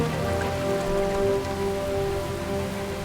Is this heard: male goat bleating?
no